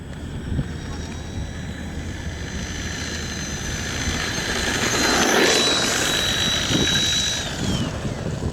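Horizon Hobby AMP MT 4WD RC monster truck making a top speed run on asphalt, its electric whine rising as it approaches and passes close by, then fading away against steady outdoor background noise.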